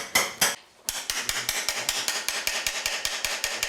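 Sharp metallic hammer blows break hard tile for grouting work in a steady, rapid series of about twenty hits, close and loud, with a brief pause near the start.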